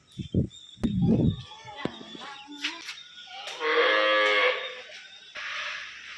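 Cows mooing at a small dairy farm near Pannimadai in Coimbatore district, Tamil Nadu: short grunts first, then a long drawn-out moo and a second lower one, fairly close, with faint clatter between calls.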